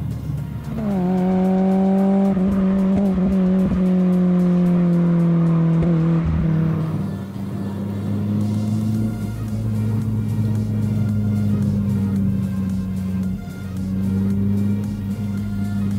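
A BMW M3 E30 carves through a run of curves, its engine note rising and falling in sustained tones with shifts and tire noise, loud and close from inside the car, no talking.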